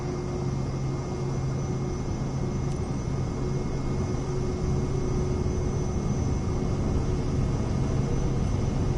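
An aircraft engine in Microsoft Flight Simulator 2024 on a snowy runway, a steady broadband roar with a constant droning hum throughout, holding level at high volume.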